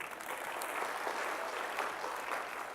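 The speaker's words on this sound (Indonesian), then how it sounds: "Tepuk tangan buat Yesus" A congregation at a GBI church service in Tasikmalaya claps for Jesus, a short, steady spell of moderately quiet group applause that stays even from start to finish.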